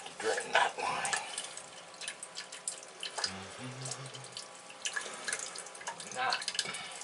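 Water drips and trickles from a copper water line during a plumbing repair, with irregular close splashes and gurgles and a short low hum partway through.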